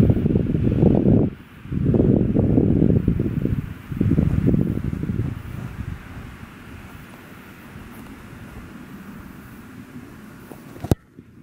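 Wind buffeting the microphone outdoors at a football field, loud in gusts for the first few seconds and then easing to a softer, steady rush, with no talk.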